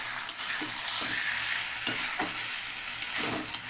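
Chicken kosha sizzles steadily in a pan while being stirred, with a constant hiss and faint scraping strokes roughly every half second, close up, with no voices.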